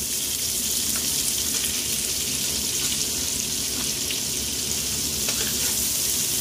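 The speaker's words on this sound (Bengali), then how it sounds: "পেঁয়াজটা হালকা করে ভেজে" Chopped onion frying alongside rice in a pan for a Bengali bottle gourd dish, a dense continuous hiss of sizzling oil held close and fairly loud throughout, with no voices.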